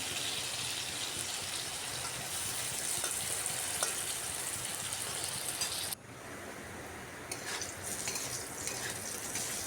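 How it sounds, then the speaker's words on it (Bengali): Pieces of potato fry and are stirred in hot oil in a pan, giving a steady close sizzle that briefly drops and then resumes with scraping stir sounds, no voices present. "এইভাবে বারবার নাড়িয়ে আলুর ডিমটাকে উল্টে পাল্টে লাল করে ভাজছি।"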